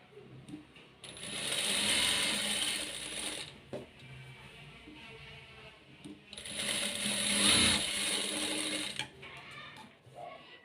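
A sewing machine stitches a blouse at dots, running in two long bursts of mechanical whirring and clatter with a short pause between, close and fairly loud.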